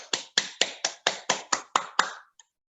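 About nine sharp, evenly spaced claps ring out close by, a slow rhythmic clapping rather than a full crowd, for a guest Ayurveda expert being welcomed at a talk, ending abruptly with a faint last tap.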